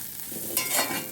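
Curry leaves dropped into prawn gravy in a pan, a brief soft sizzle with stirring scrape that swells toward the end, quiet and close.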